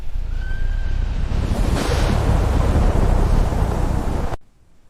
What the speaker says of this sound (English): Thunder broke the sky.